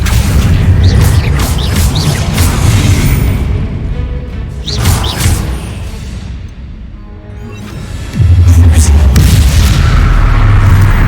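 A Confringo explosive spell blast erupts in the Hogwarts Legacy video game, a loud, booming detonation with rumbling low end and whooshing debris, followed by a brief lull and another heavy blast.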